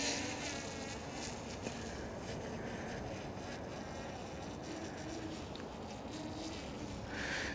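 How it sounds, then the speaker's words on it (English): A DJI Mini 3 Pro drone flies in gusty wind over a meadow, its steady insect-like buzz continuous and fairly distant, blended with broadband wind rush throughout, with no talking. "Can hear it fighting with the wind."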